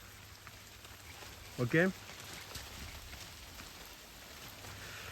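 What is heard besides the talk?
rain falling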